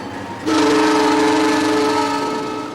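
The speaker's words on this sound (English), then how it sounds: "I have 1 whistle" A locomotive whistle sounded by the engineer from the cab: after a brief low rumble, one loud, steady horn blast starts and holds for about two seconds, close and alone.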